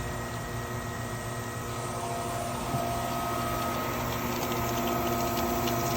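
Pool pump running during a backwash, a steady low hum with rushing water noise that stays constant and fairly faint throughout.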